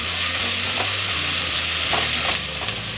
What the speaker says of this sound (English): You gotta stir it good so it don't burn.